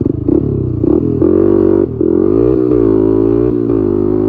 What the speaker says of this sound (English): let's go ahead and do this top speed run, and we'll see what we can do.